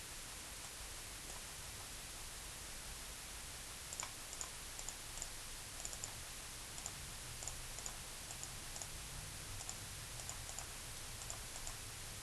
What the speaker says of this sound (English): typing that all into our calculator appropriately